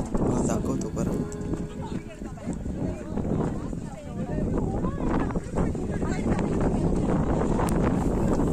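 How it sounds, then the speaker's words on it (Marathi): Strong, gusty wind buffets the microphone on a monsoon trek at Koraigad fort in Maharashtra, a loud continuous roar that swells and eases, with a voice talking underneath. "जे एवढा वाऱ्याचा वगैरे एवढा तुम्हाला आवाज येत असेल"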